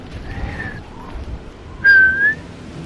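A character whistling in the video game Oblivion: two rising whistle tones, a softer one first and a louder, clearer one near the end, over a low ambient rumble.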